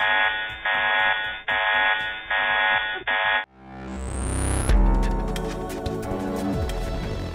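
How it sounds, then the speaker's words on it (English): A loud, harsh buzzing alarm sounds in five repeated pulses, then gives way to a rising electronic sweep and swelling music. "But suddenly, an alarm rings and calls for their undivided attention."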